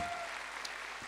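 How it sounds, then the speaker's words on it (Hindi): Audience applause at a network marketing motivational seminar, a dense burst of clapping that fills the whole short moment at steady volume. "तो राकेश जी के लिए तालियां होनी चाहिए,"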